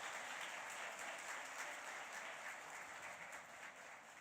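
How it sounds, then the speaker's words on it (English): An audience at a 2019 leadership academy graduation claps steadily, a dense wash of applause held at an even level throughout, slightly distant and with no voices over it. "can we give them a round of applause, a real serious round of applause"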